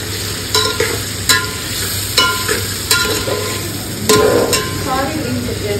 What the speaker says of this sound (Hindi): लगा रही है अब तड़का